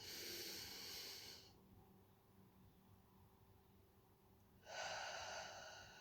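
A person taking slow deep breaths during a labour breathing exercise: a soft airy exhale, a pause in near silence, then a long hissing inhale, close and quiet with no talking.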